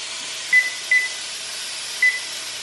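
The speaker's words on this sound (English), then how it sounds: "all of a sudden the weather radio goes off, the weather alarm goes off" A weather radio alarm beeps three times in short bursts over a steady hiss of outdoor background noise.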